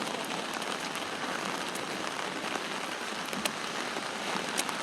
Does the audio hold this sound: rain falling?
yes